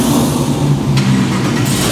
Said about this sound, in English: I think it would be justified to hear them both rev the engines